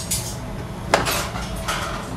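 Utensil stirring a pot of melting cheesy mixture with mozzarella and cheddar, giving a few soft scrapes and clinks against the pot over a low background hum, with one sharper knock near the middle.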